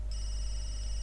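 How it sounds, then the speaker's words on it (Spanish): A telephone rings in the video game The Sims 3, a steady high electronic trill starting abruptly over a low constant hum, with no speech. "Vuelven a llamarme por el teléfono."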